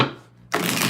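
A quick riffle of tarot cards being shuffled, a short dense flutter after a brief quiet moment, close up and fairly loud.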